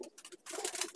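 Andhra pigeons kept indoors coo in short soft bursts, a few quick murmuring calls close by with no voices.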